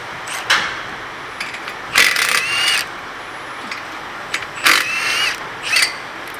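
A socket fitted with a T45 Torx bit turns a brake bolt on a first-generation Mazda 3, producing several short ratcheting and scraping bursts with pauses between, close and moderately loud.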